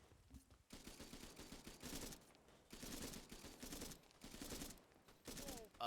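Sustained automatic machine gun fire in the Arma 3 military shooter, rapid bursts rolling in uneven waves of dense crackling reports, moderately distant and without speech.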